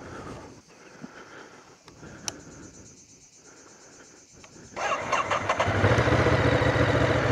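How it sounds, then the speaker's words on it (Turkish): Quiet ticking and clicks, then a Ducati Multistrada 950 engine cranks and catches near the end, settling into a loud, steady motorcycle running. "Önce bir motosikletimizi çalıştıralım."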